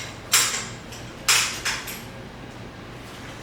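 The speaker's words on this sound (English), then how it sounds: "The safety belt falling down behind the seat." A wheelchair safety belt on an ilevel Quantum Edge 3 power chair drops down behind the seat, giving two or three sharp, bright clatters close by, alone with no talk.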